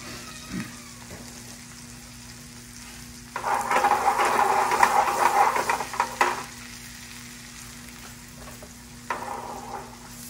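Veal fries in butter in a pan, a close sizzling hiss that rises sharply for a few seconds, then settles back to a quieter background with small scrapes.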